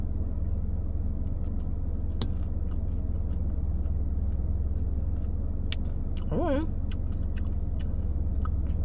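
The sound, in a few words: crunching Kit Kat and strawberry clusters in a McFlurry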